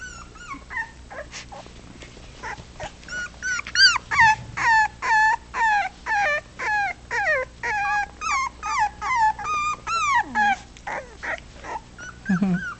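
Four-week-old puppies whimpering, yipping and growling in play, a near and busy run of short rising whines repeating almost nonstop, with a few low growls mixed in and no talk.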